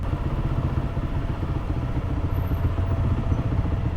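Motorcycles on a touring ride near the Terracotta Army in China rumble steadily and continuously at close range, a dense low engine drone with faint clatter and no talking.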